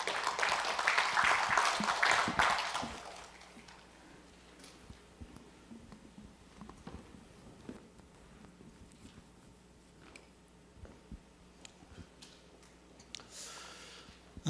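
Audience applause greeting a speaker at a history lecture in Namwon, a dense burst of clapping for about three seconds that quickly fades into quiet room noise with scattered rustles and small knocks.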